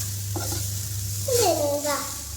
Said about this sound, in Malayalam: എന്നിട്ട് നന്നായിട്ട് അത് മിക്സ് ചെയ്യണം. കണ്ടില്ലേ, ഇതുപോലെ നല്ലോണം മിക്സ് ചെയ്യാം.